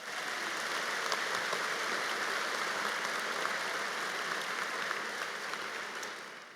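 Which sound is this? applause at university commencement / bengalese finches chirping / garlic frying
applause at university commencement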